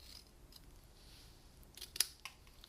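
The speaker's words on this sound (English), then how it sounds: "Then for the body, I'm going to cut off the legs" Scissors snipping through a paper reindeer note card, a few quiet close cuts with one sharper snip near the end, no talking.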